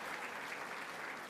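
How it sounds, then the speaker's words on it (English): Steady, dense applause from a luncheon audience fills the whole moment at an even, moderately loud level, with no voices standing out. "Please, a round of applause for all"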